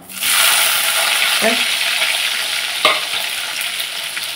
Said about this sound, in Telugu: ఇప్పుడు పచ్చిమిరపకాయలు, ఉల్లిపాయలు కూడా ముక్కలు కూడా ఇప్పుడు మేము వేసుకుందాం.